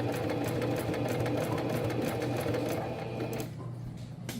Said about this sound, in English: He is eyeing the thread on the back of my sewing machine because it's moving as I'm sewing.